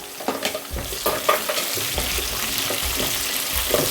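Green chillies, dried red chillies and curry leaves frying in a pan for a ridge gourd and mixed dal sambar, stirred with repeated scraping strokes over a steady close sizzle, with no talking.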